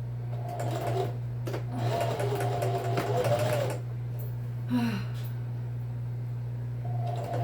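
A domestic sewing machine runs in short bursts stitching a dress inseam from a 1950s vintage pattern, a rapid mechanical whir starting and stopping, with a steady low hum underneath and no talking.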